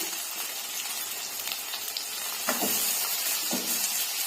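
Chopped onions with a little salt sizzle and crackle steadily in a hot pan, with a few louder scraping stir sounds partway through; no one speaks.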